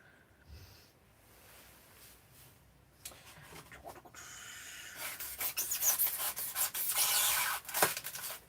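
Knife or file scraping away at a plastic miniature model during a live kitbash build, quiet at first, then dense rapid rasping strokes grow louder and busier in the second half, close up with no talking.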